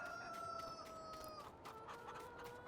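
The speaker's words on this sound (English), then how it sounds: "what I'm going to do is just buy some more chickens" Chickens in the game Farming Simulator 19 on the Ravenport map cluck and chatter over a steady hum of ambient noise, with a faint tonal drone running underneath.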